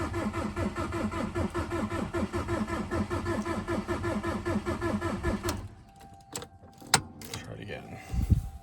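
A TDI diesel engine cranks over repeatedly for about five seconds in a steady rhythmic churn, fails to catch and stops, followed by a few clicks and knocks; close and fairly loud.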